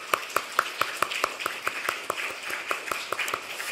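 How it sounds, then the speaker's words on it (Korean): A church congregation claps together for its volunteers, a steady run of sharp handclaps layered into a dense, continuous applause that holds at an even level throughout. "서로를 위해 그리고 봉사자들을 위해 함께 박수"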